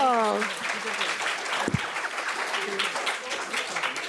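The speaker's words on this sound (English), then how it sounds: "Let's give them a round of applause." Audience applause at a peace lobbying training session after a role play, steady broadband clapping from a crowd throughout, with a brief voice at the start and a sharp thump partway through.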